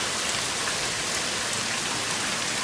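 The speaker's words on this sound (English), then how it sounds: "It's now showing, giving us a good view of how much rain we have in the area." Heavy rain pours steadily at night during a thunderstorm in Hermiston, a dense, even hiss of drops on surfaces filling the whole stretch with no voices.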